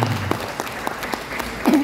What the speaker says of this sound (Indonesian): Masya Allah, tepuk tangan sekarang.